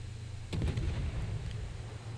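Soviet 130mm naval guns fire shells in a naval battle video game, a single loud low boom with a short rumbling tail, heard alone.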